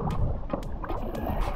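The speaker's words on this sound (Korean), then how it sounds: "생애 첫 카약을 이런 식으로 하다니." A kayak paddle dips and pulls through water in a repeated rhythm of close splashes and swishes, with wind buffeting the microphone outdoors in the Lençóis area of Brazil.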